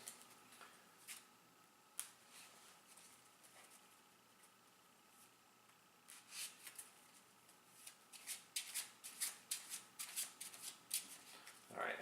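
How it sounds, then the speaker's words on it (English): Playing cards for the Darkest Night board game are shuffled close by, faint riffles and soft flicks at first, then rapid, repeated riffling bursts growing louder toward the end. "I think these are sufficiently shuffled."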